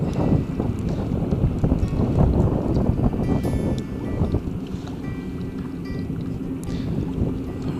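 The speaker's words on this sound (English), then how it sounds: "Wind's picking up." Wind gusting across open water around a small fishing boat while jig fishing on a tailwater, a steady rushing roar buffeting the microphone, stronger in the first half, then easing to a lower, constant blow.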